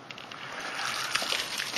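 Mentos dropped into a bottle of seltzer water set off a short burst of fizzing and splashing, a hissy, sloshing rush heard up close at modest volume.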